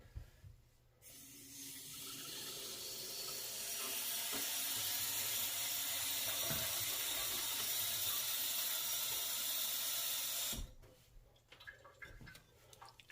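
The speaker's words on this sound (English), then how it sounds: "Just regular tap water is all I'm getting." Tap water gushes from a faucet for about ten seconds, a steady loud hiss, framed by faint handling clicks before and after.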